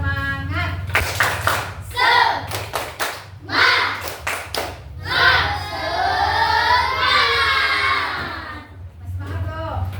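Schoolchildren in a classroom perform the rhythmic "tepuk semangat" clapping chant, bursts of patterned hand claps alternating with loud group shouting and chanting voices, close and energetic.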